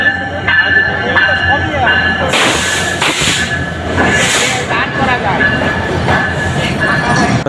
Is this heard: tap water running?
no